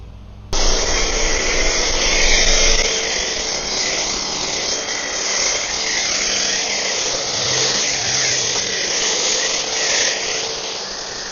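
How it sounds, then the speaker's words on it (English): Steady broadband hiss of a pressure sprayer or foam cannon coating a car, the front sprayed with all-purpose cleaner diluted 1 to 15 before the whole vehicle is foamed; continuous and fairly loud, with no talking. "I'm going to spray this on the front of the car and then foam the entire vehicle"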